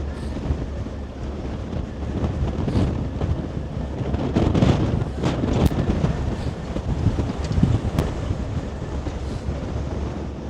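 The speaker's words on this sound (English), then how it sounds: "I am tearing up thoroughly with this wind" Strong wind blowing outdoors in New York City at sunset, roaring and buffeting the microphone continuously with gusty surges, loud and close, with no talking.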